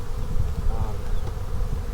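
A strong hive of bees hums in a steady, dense drone, close and continuous, with many wings buzzing together at an even level throughout.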